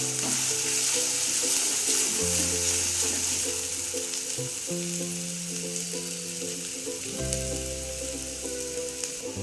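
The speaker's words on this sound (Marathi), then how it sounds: "सगळी एकत्र करून पेस्ट करून आपलं तळून घेऊया आपण" A ground paste of onion, coconut, poppy seed, ginger, garlic and coriander fries in hot oil with a loud, continuous sizzle and occasional stirring, while steady background music plays underneath.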